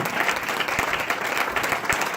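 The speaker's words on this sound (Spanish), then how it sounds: "Denle ese fuerte aplauso" A church congregation gives a brief, strong round of applause, with dense clapping at a steady level and a few heavier thumps within it.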